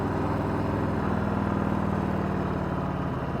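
Harley-Davidson Street Bob 107 motorcycle, a 2020 model, engine braking while riding at night: a steady, close, low rumbling engine drone that holds at an even level throughout, with no talking.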